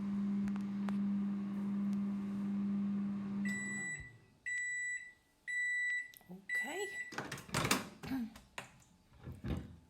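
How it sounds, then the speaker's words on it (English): A microwave oven melting a Mars bar cake mixture in a bowl hums steadily for a few seconds, then beeps in several short bursts, followed by door clunks and handling noises, close and clear. "you're going to pop it in the microwave for as long as it takes to melt the mixture in the bowl"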